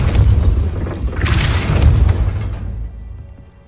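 A Depulso spell fires in the Hogwarts Legacy video game, a loud booming magical blast with a rumbling burst and crackle that swells and then fades away over a few seconds, with no voices over it.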